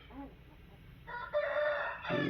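A rooster on a native-chicken poultry farm in Kadapa crows once, loud and close, after a brief quieter cluck, with no talk in the moment.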